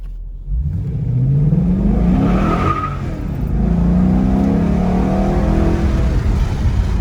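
A 2014 Ford Mustang GT with the Coyote 5.0 V8 and an aftermarket intake accelerates hard and close by, its engine note rising through the revs, easing briefly as it shifts, then climbing again loud and throaty.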